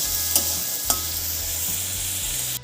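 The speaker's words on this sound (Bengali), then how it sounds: "এবার পেঁয়াজটা ফোড়নের সাথে বেশ কিছুক্ষণ সময় ধরে ভেজে নেব" Chopped onions frying in oil with whole spices, a steady, loud sizzle close up with a couple of brief stirring scrapes and a low background hum.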